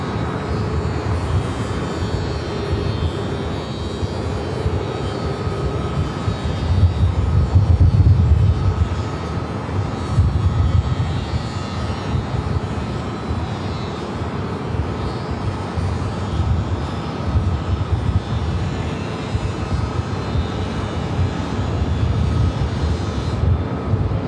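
A Singapore Airlines Boeing 777-300ER in all-white Star Alliance livery at LAX gives a steady, fairly loud jet roar that swells briefly midway, with no talk over it.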